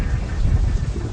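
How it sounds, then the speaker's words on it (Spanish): Heavy downpour with thunder around Berlin Central Station, a dense roar of rain with a low rumbling undertone, steady and loud throughout with no voices. "Está lloviendo a cántaros."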